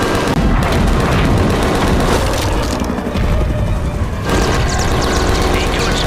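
Dense, continuous weapons fire and missile blasts pound a giant lizard in a monster film, with loud booming explosions and rapid gunfire filling the whole stretch without letup.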